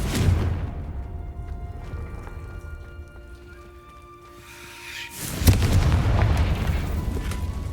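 A Confringo blasting spell explodes in the video game Hogwarts Legacy: a heavy booming blast with rumbling debris, fading to a quieter magical hum, then a second loud burst and sustained rumble.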